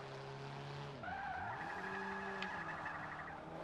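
1998 Talon TSi Turbo drifting in Forza 5: a loud, sustained tire squeal rides over a steady engine drone, with a sharp pitch swoop as the slide begins and no voices.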